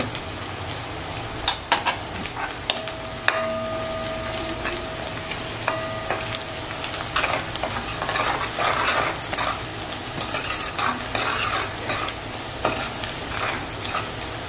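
Sliced onion frying over medium gas with garlic, turmeric powder and salt for a Karli fish curry, giving a steady close sizzle broken by repeated spoon scrapes and clicks against the pan, with no talking.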